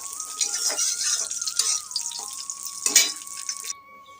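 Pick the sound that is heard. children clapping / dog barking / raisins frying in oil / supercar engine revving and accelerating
raisins frying in oil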